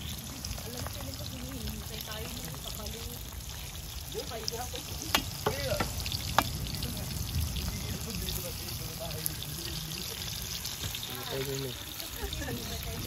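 Food sizzling and frying in a pan at night, a steady crackling hiss throughout with occasional clinks and stirring, while people talk over it.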